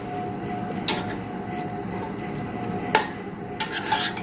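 Spices stirred into a pot of chicken biryani with a utensil, soft scraping and rustling with a few sharper clinks against the pot, close but fairly quiet, no talking.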